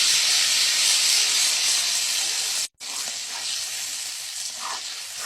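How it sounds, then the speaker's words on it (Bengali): Ground spice paste hits hot oil in a pan, a loud rushing hiss and sizzle that cuts out for an instant, then resumes slightly softer with light stirring. "এই তেলের মধ্যে আমাদের পেস্ট করা মশলাটা দিয়ে দেবো।"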